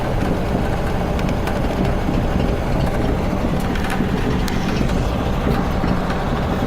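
A 1972 VW Super Beetle engine at slow driving speed near idle, a dense, rough, continuous rumble with rattling road noise, steady and close throughout.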